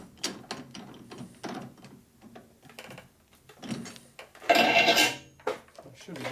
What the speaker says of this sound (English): We'll just tighten up the chuck a little bit here.